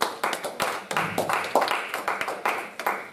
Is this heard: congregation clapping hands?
yes